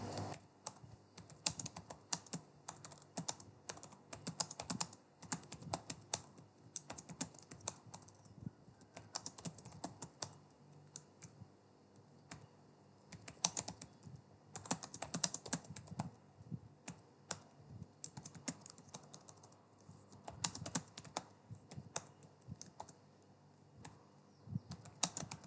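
Steady typing on a computer keyboard, a fast irregular patter of soft key clicks with brief pauses between bursts, fairly quiet and close, with no talking.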